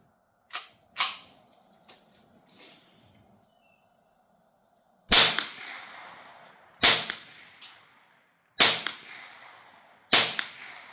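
Mini-Mag rimfire rounds fired through a B&T Tiger 22 suppressor at an outdoor range: four sharp, fairly loud suppressed cracks spaced a second or two apart, each with a short echoing tail, preceded by fainter distant pops and a quiet hum.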